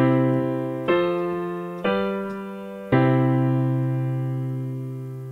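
A piano plays a I-IV-V-I progression as block chords in root position, alone, with four sustained chords each struck once and left to ring and slowly fade.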